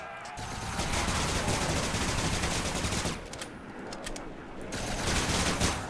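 Automatic weapon fire in the Call of Duty Zombies video game, sustained rattling bursts that pause briefly midway before resuming, fairly quiet overall with little talk.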